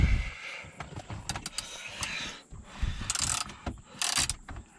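A bolt being screwed down into a Hummer H2 gearshift assembly during repair, giving close, irregular mechanical clicks and ratcheting scrapes with a few brighter metallic bursts, and no talking.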